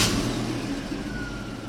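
A race car with an aggressive race exhaust fires up close by, settling into a loud, steady, rumbling idle.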